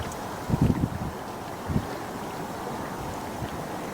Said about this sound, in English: as you can probably hear on the audio from the camera, is that it is quite windy